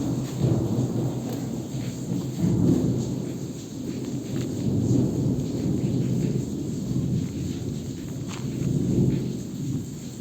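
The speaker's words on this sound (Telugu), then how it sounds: "వర్షానికి ఉరుములు." Low, rolling rumbles of thunder swell and fade repeatedly under a steady wash of rain, loud and continuous with no voices.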